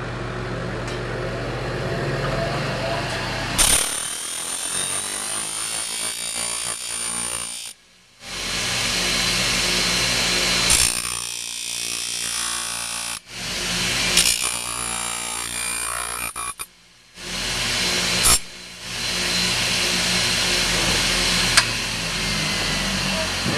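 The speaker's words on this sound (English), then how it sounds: "straighten it up a little bit on the grinder" Loud, continuous grinding whine from a bench grinder shaping an aluminum horseshoe, running in long bursts separated by brief pauses as the metal is pressed against the wheel.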